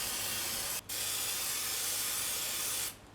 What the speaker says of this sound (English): Just going to spray them with some olive oil.